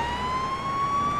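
A police car siren in a video game wails as a single steady rising tone, loud and close over a low engine hum, with no voices.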